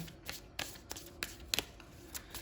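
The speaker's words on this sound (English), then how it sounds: "I'm going to just shuffle now my affirmator cards." Tarot and affirmation cards being shuffled in several quick riffling bursts, each a short crisp flutter, separated by brief pauses in a quiet room.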